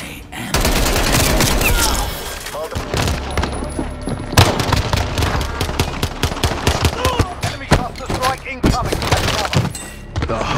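Rapid automatic gunfire in Call of Duty crackles in dense bursts and scattered single shots with sharp thuds, loud and close, while voices talk over the shooting.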